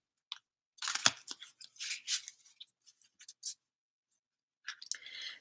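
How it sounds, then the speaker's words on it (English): A deck of cards being shuffled by hand during a quiet spiritual session, soft crisp riffling bursts and taps in short irregular clusters, with a pause before a final flurry. "as I've been talking, I've been shuffling these cards"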